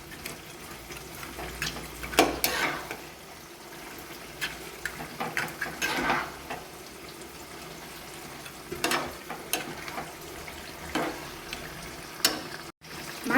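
Fried fish heads are stirred into a bottle gourd curry in a pan, with soft scraping and wet clatter in irregular bursts over a low sizzle, moderately close and fairly quiet.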